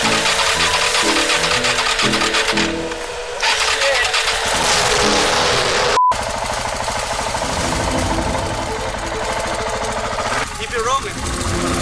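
A dirt bike engine downshifts under hard braking, its revs jumping in choppy bursts and wind rushing throughout, with someone talking over it.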